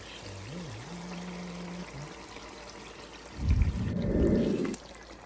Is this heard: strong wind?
no